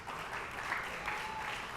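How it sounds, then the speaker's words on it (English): A crowd applauds a middle school athlete at an athletic awards event, a soft, continuous wash of many hands clapping at a distance, even and unbroken. "We'll give him a round of applause."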